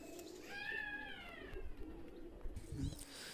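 A Pakistani high-flyer pigeon coos softly and close at hand, giving a short drawn-out call followed by low throaty murmurs, faint and on its own.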